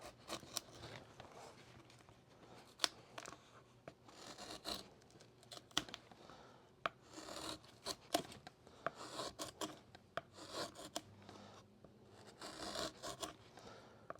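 Spruce guitar top braces shaved down by hand, giving repeated short rasping, scraping strokes in uneven bursts, close and fairly quiet, with no talking.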